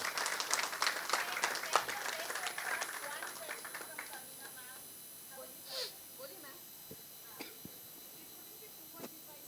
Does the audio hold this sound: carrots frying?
no